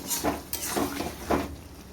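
A pan of bottle gourd curry, sweetened with a little sugar, stirred with a spoon: three scraping, clinking strokes in a steady rhythm, close and moderately loud, with no talking.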